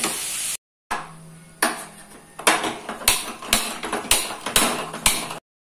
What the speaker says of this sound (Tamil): பாருங்க, எண்ணெயில நல்லா வதங்கி பீன்ஸ் ஓரளவு பாயில் ஆயிடுச்சு.